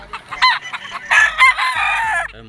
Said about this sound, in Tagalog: yung mga manok na nakuha nila